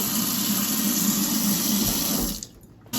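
Water sprays from a newly installed kitchen faucet into a sink with a steady, loud hiss and splash, then cuts off abruptly near the end, leaving quiet.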